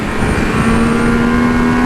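A Triumph Speed Triple 1200 RR motorcycle accelerates hard and loud, its engine note climbing steadily through a quickshifted gear, alone with no talk.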